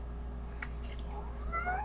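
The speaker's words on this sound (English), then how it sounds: "cat saying hi to everyone" A cat gives a short, fairly quiet meow over a steady low background hum, rising briefly near the end.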